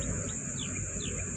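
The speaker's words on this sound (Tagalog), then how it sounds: "Tapos yan may mga ibon-ibon dyan oh." Birds chirping outdoors, with several faint high sweeping chirps over a steady bed of insect-like buzzing and outdoor background noise.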